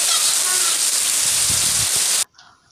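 Heavy monsoon rain pours over waterlogged farm fields, a loud, dense roaring hiss that runs steadily and then cuts off abruptly near the end.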